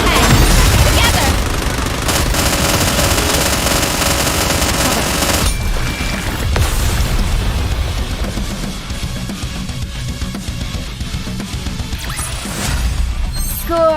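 Gunfire in the anime shooter Goddess of Victory: Nikke, a loud, continuous fusillade of rapid automatic shots and crashing impacts filling the whole stretch, with a voice speaking over the battle.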